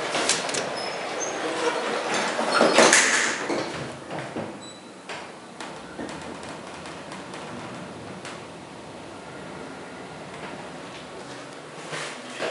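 Vintage Westinghouse/Haughton elevator at the National Gallery of Art in Washington DC, riding up with its original door handle: a steady low mechanical hum with scattered clicks and a louder clatter early on, heard from inside the car.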